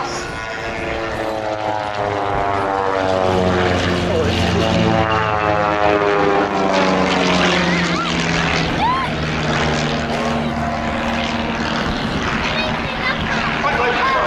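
A Pitts Special aerobatic biplane, a lightweight wartime-era design, drones overhead at an air show, its propeller engine loud and changing pitch as it passes, with a commentator talking throughout.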